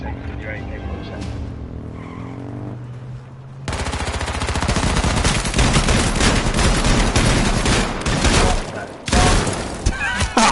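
Dense bursts of AK-47 rifle fire in the battle royale game H1Z1 erupt after a quiet opening and continue as loud, rapid volleys with skidding vehicle noise.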